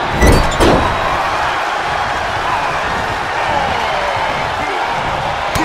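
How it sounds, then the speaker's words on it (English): A wrestling arena crowd roars at a WWE battle royal, a loud, dense, continuous wash of cheering with a few sharp thuds and clinks near the start. "The sound of this crowd is deafening, and he's asking for more."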